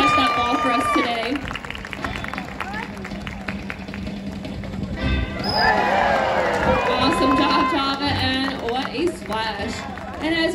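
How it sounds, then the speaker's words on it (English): Audience at an aquarium sea lion show cheering and clapping, a sustained crowd roll of applause and shouts swelling midway, with a presenter's voice over the noise. "let's make some noise for him one more time. Let's cheer him on."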